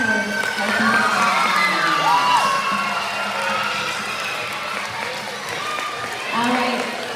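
A school assembly audience of children cheers and shouts over continuous applause, a loud, lively crowd roar with high voices squealing and rising again near the end.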